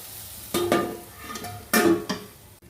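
Bitter gourd slices frying in a pan, with a couple of bright bursts of sizzling and stirring scrapes that rise and fade, close by and fairly quiet with no talk.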